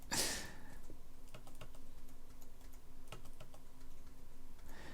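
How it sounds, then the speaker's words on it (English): Computer keyboard keystrokes during a game of Smash Arena, heard as quiet, irregular clicking taps that continue over several seconds, with a brief louder burst of noise at the start. "It's just a lot of keystrokes."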